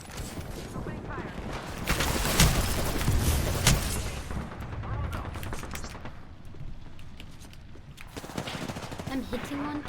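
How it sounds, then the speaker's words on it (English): Gunfire in the battle royale video game Apex Legends: sustained rapid automatic bursts with booming impacts, loud and dense, easing later into scattered shots and game effects. "Opening fire."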